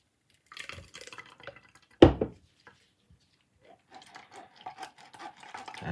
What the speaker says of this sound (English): we're gonna pour some more